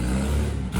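Engine noise comes through the exhaust of a car on a street, close and loud for under a second as a low rumbling revving roar that dips briefly and then swells again.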